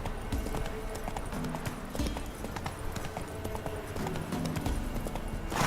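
Rhythmic clip-clop of horse hooves galloping steadily in The Witcher 3, with occasional snorts, sustained and fairly loud against a constant game ambience.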